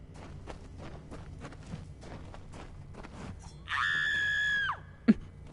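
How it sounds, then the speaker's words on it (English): A loud, sustained scream in the video game Kingdoms of Amalur: Re-Reckoning holds steady for about a second, then drops off sharply, followed by a brief thud. Quieter footsteps and running play before it. "That was quite a scream."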